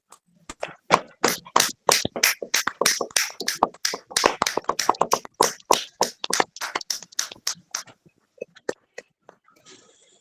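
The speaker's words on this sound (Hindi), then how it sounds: "आइए बच्चे, ताली देके उनको स्वागत करेंगे।" A group of children and women at a Saturday prayer fellowship claps to welcome a guest, a burst of many sharp, uneven hand claps that thins out toward the end, close and alone without talk.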